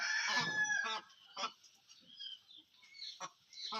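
Gavran country chickens on a farm give a loud close squawk, then several shorter clucks and calls scattered over a few seconds, with quiet gaps between them.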